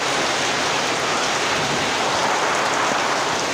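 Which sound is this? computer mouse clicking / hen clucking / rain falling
rain falling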